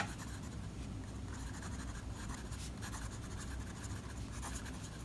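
A Waterman Graduate fountain pen with a steel nib scratches quickly across paper in close, quiet, continuous strokes with faint rhythmic scraping.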